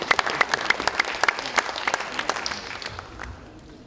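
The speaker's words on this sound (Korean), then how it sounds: "의원님 여러분, 우리 따뜻한 박수 부탁드리겠습니다." Lawmakers at a party caucus meeting break into applause, a moderate burst of claps that thins and fades over a few seconds in an indoor hall.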